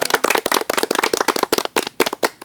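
Close, sharp claps from a small group in a casual talk-show setting, dense and irregular, with loud individual hand strikes and no voices over them.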